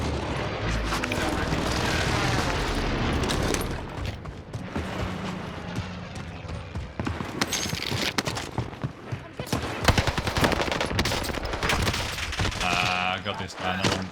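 Gunfire in Call of Duty, with rapid bursts and sharp shots from nearby, ringing out over continuous game noise while a player talks.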